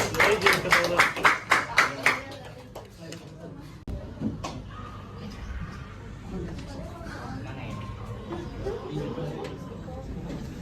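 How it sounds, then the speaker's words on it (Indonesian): Students in a classroom clap for group 2, about ten sharp, rhythmic claps close by for two seconds, then fading into murmuring chatter and scattered room noise. "Mari kita berikan tepuk tangan kepada kelompok 2."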